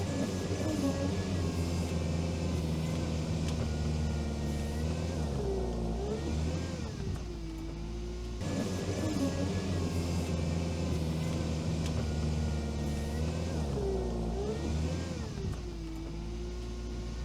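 A Veter all-terrain vehicle drives off-road with no diff locks and tyres at normal pressure, its engine droning steadily and rising into a strained rev twice in a repeating pattern.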